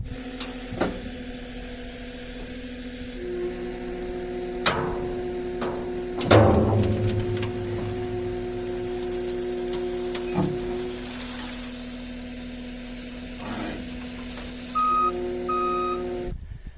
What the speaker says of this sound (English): I'm going to get in the skid steer and lower it down all the way